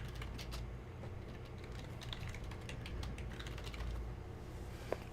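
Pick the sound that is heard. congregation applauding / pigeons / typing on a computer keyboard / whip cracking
typing on a computer keyboard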